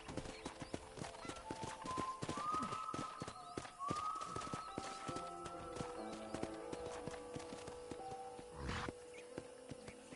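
Horse hooves clip-clop steadily in Red Dead Redemption, close and rhythmic, with a horse's whinny and other game sounds layered over the walking gait.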